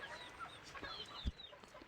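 Native country chickens cluck and chatter softly in short, scattered calls with a few thumps, faint and close, in a quiet farmyard.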